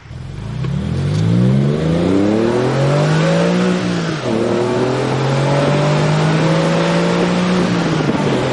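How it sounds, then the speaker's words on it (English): A Porsche 996 Carrera fitted with Fabspeed Maxflo mufflers pulls hard in third gear at high speed, its exhaust note climbing steadily twice with a quick shift between, loud and throaty with no voices. "That was third gear, high speed acceleration."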